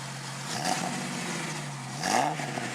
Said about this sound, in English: give me a little gas. Let's see what it sounds like.